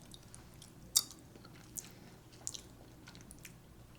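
Doritos chips being chewed close to the mic, soft crunches and wet chewing with one sharp crackle near the start, over a quiet background hum.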